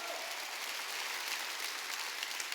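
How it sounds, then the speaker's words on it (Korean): A church congregation claps together in a continuous, even wash of applause, heard faintly and at a distance with no voices on top. "깨달은 사람만 박수 치라고요."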